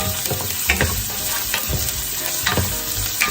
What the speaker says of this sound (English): And I like to saute it with shallots.